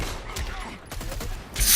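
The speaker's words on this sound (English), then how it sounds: "There's the wrist cannon." Deadshot's wrist cannon fires in a fighting video game, a quick series of sharp gunfire bursts ending in a louder, bright blast, with game effects in the background.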